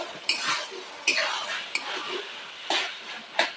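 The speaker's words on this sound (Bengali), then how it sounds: "এরপরে দিয়ে দিচ্ছি এতে মটর এভাবে নাড়াচাড়া করবো" A spoon scrapes and clinks against a pan while peas for Bengali ghugni are stirred, sharp metallic knocks recurring irregularly over a soft frying hiss, close and fairly loud.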